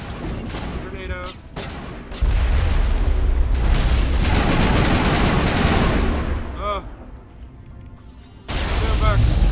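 A grenade detonates in the Mass Effect video game as a sustained, loud rumbling blast layered with crackling combat fire, with game voices calling out over the noise.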